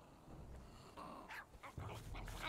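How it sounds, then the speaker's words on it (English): A dog in the survival video game Survival: Fountain of Youth gives short whimpering and growling sounds over a dim, steady game ambience, moderately close and fairly quiet, with no speech. "Dog."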